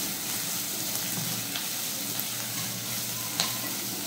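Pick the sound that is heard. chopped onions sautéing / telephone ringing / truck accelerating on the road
chopped onions sautéing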